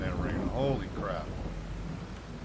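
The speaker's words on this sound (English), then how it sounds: "Man, I'm loving that rain." Thunderstorm with rain in Farming Simulator 22: a low rolling rumble of thunder over a steady hiss of rain, with tonal, warbling game sounds briefly overlaid early on, moderately loud and without talk.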